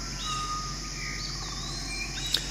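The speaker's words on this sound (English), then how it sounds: "I can hear the birds singing all around me." Birds chirp and sing at a distance over a steady outdoor hiss, with thin whistled calls coming and going and one brief sharper chirp near the end.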